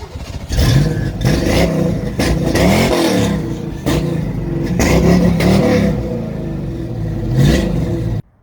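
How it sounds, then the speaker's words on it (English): A 1990 Ford Mustang GT V8 cold-starts with a loud, close crank and catch, then settles into a rough, rumbling fast idle with a few revving swells over roughly eight seconds. "Here's a cold startup on a 1990 Mustang GT."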